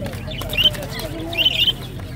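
Pricey fancy pigeons at a bird market give soft coos and warbling calls, two short bursts over a low murmuring background, near and moderately loud.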